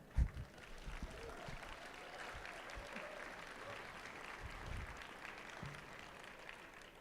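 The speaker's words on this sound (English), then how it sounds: "I think we got applause there." An audience at a fireside chat applauds steadily in a soft, continuous wash of clapping that holds at an even level throughout, heard from a distance with no talking.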